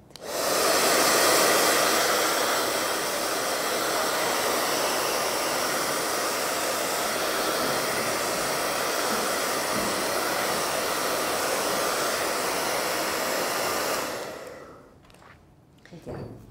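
A hair dryer blows steadily and loudly for about fourteen seconds, drying a painted base coat on a kitchen utility piece before varnishing, then switches off into near quiet.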